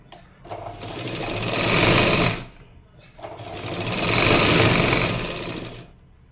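A sewing machine runs two steady bursts of stitching on a katori blouse, folding and edge-stitching the fabric, about two seconds, then a short pause and a longer three-second run, close and fairly loud with no voices.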